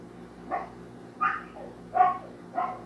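A dog barks four times at steady intervals, each bark sharp and fairly close, over a quiet background hum.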